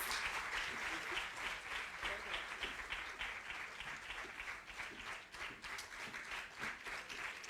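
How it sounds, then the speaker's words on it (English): An audience applauds to welcome a speaker at an International Women's Day 2022 event in Freetown, with sustained, dense clapping from a crowd throughout and a voice talking over it. "put your hands together as you help me welcome Madam Nasu Fofana"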